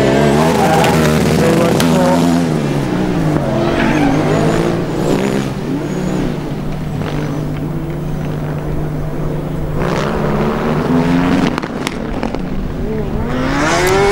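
A Formula Student race car on an endurance track revs and shifts, engine notes sweeping up and down loudly and close before easing off, with a commentator talking over it.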